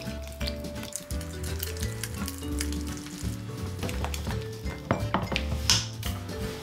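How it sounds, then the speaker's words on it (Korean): A spoon stirs Oreo muffin batter made with milk and yogurt in a bowl, giving close, continuous scraping and soft wet clicking against the bowl with small irregular knocks. "자, 요렇게 섞어주시면 이게 반죽이에요."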